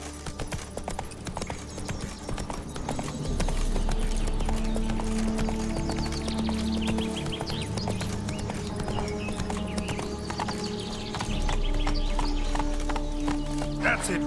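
Roach the horse gallops in The Witcher 3, a steady rhythmic clip-clop of hooves running continuously over game music and ambient effects, with a voice speaking briefly over it.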